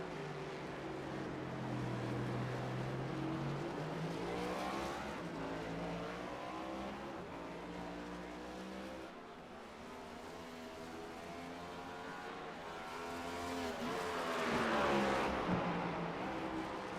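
NASCAR race car in the iRacing game at Sonoma, the 79 machine: engine note drops as it brakes, then climbs again under throttle, a loud close drone with no voices.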